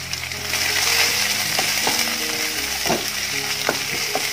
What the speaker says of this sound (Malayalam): ഇനി അതിലോട്ട് 2 സവാള കട്ട് ചെയ്ത് ചേർത്ത് കൊടുക്കാം.